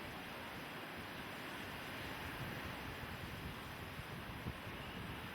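Surf at Playa Chac Mool beach in Cancún rushes as a constant broad roar, mixed with wind buffeting the microphone, with no distinct individual wave breaks.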